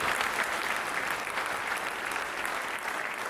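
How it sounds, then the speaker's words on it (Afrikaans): A church congregation gives a round of applause, dense steady clapping from many hands filling the room without pause for a few seconds. "Geef hom 'n ander klap."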